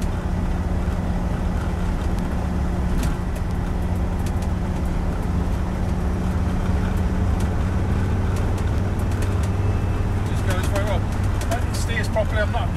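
Land Rover Defender 90 TD5 XS station wagon driving along a road, a steady loud diesel engine drone and road rumble from inside the cabin throughout, with brief rattles and clicks toward the end.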